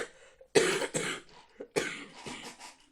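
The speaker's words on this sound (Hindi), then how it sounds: "फिर क्या हुआ खांसी मैं आ गई" A woman coughs twice in a harsh, throaty burst, each cough loud and close, followed by a smaller catch and a fainter second round of coughing, with no talk.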